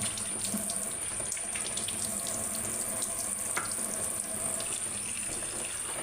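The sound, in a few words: washing tamarind in water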